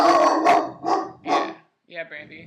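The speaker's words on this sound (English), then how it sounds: "Sorry, that's my dog." A pet dog barks loudly and close by, three or four sharp, rough barks about half a second apart, then a voice speaks briefly.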